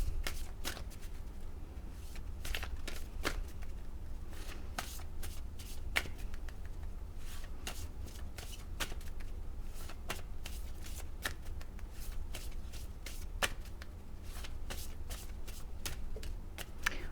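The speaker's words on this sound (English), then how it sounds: "I'm going to shuffle the deck." A deck of tarot cards is shuffled by hand up close, with a quiet, steady stream of crisp riffling snaps and soft flutters repeating throughout.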